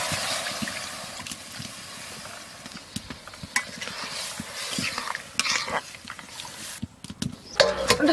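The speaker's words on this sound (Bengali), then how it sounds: "এবারে জল দিয়ে দেবো।" Water splashes into a pan of desi country chicken curry with village spices, a close hiss and bubbling sizzle mixed with clattering stirring that grows louder and more broken toward the end.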